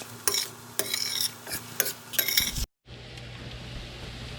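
Scrambled eggs being stirred in a hot pan, giving repeated scraping strokes with a soft sizzle underneath, close by. The stirring stops abruptly partway through, and then a steady low hiss continues alone.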